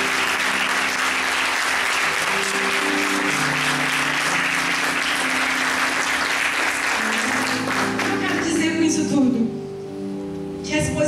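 Sustained applause from a church congregation fills most of the span at steady loudness, then fades into a few voices and musical tones near the end.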